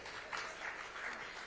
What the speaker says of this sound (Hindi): तो तालियां बजती रहनी चाहिए